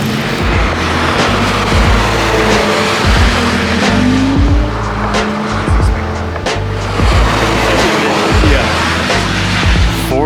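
Race car pulling out onto a wet track, its engine loud and droning with rhythmic rises and drops as it shifts and accelerates, tires squealing briefly, heard alone without talk.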